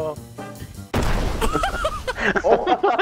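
A grenade goes off in GTA 5, a sudden loud blast with a crackling tail, coming right after a short musical tone. Excited players' voices shout over the aftermath.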